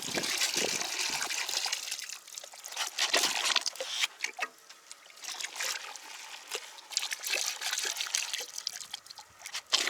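Water sloshes and swirls in a gold pan as it is worked, a steady close wash of splashing and trickling with brief surges and lulls.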